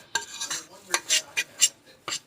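Spoon stirring cornbread batter of buttermilk, melted butter and two eggs in a bowl, giving several quick scraping, clinking strokes in an irregular rhythm, close and fairly clear with no talking.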